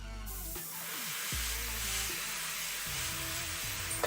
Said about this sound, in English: I'm trying to get a little bit more practice with the airbrush